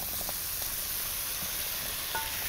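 Garlic sizzling in a hot pan while being stirred, a dense continuous hiss with faint occasional scrapes, close and steady, no voices.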